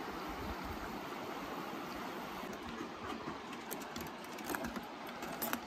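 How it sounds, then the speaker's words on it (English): Tumbling Creek, a mountain creek in Banff, rushes beneath a bridge on the Rockwall trail, a steady broadband roar of flowing water heard up close with no one talking. "Made it to the bridge over Tumbling Creek."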